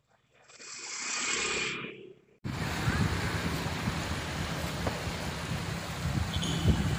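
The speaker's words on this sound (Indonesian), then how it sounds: "Pak Marisa, inilah air bah di saat sore hari ini." Floodwater pours along a farmers' irrigation channel in Indramayu in the late afternoon, a steady broadband rushing roar that kicks in abruptly after a quieter opening stretch and then holds loud and continuous.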